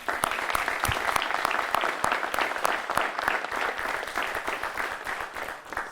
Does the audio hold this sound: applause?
yes